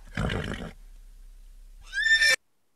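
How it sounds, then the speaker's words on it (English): A horse neighing, taken from a free online sample: a short broadband burst, a pause, then a single loud, bright whinny near the end. "I went looking online for some free horse samples"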